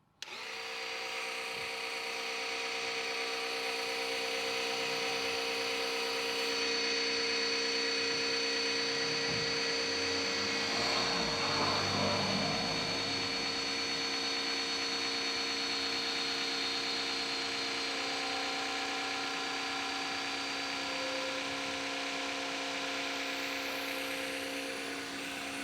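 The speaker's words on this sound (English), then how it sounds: "I simply hit the down button." An E-HEELP 12V electric hydraulic car jack lowers with a continuous high, steady motor whine that holds at an even level for the whole stretch, swelling slightly midway.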